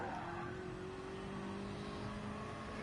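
A Jaguar race car engine drones at steady high revs in a NASCAR racing game, a continuous nasal tone that rises slightly, with a second engine note joining partway through, close and moderately loud with no talk.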